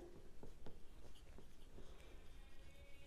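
Marker or chalk writing on a board during a class 12 accounting lesson on reissue of shares: short scratchy strokes and taps in an irregular rhythm, faint and close, with no talk over them.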